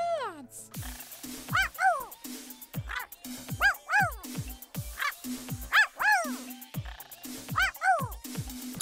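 Puppy in a Sesame Street game, giving a series of short high yips and whimpering barks in a repeated rhythm with brief pauses, clear and close, with no speech.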